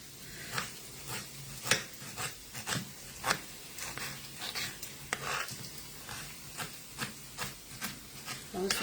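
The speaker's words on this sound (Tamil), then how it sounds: "ஸோ தக்காளி கட் பண்ணிக்கலாம்." Tomatoes are cut on a board for a bitter gourd tamarind curry, with a steady series of soft knife chops, roughly one every half second.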